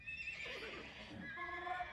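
A horse in an Age of Empires game mod gives a clear, high, wavering whinny that falls off, then a shorter tonal call follows. The sound is faint and heard alone.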